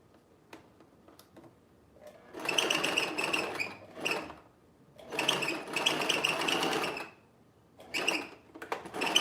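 A sewing machine stitches darts in t-shirt fabric in three buzzing runs of a few seconds each, with quiet pauses and small clicks between them, heard up close.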